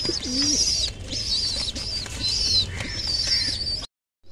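Pigeons coo in a home loft, repeated soft rolling coos in a steady rhythm close by, with a few brief higher chirps mixed in, ending abruptly.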